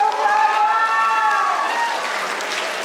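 An audience applauds a Teater Trotoar street-theatre performance at the Pesantren Ekologi event, a loud, dense and steady clapping that fades slightly toward the end, with no talk over it.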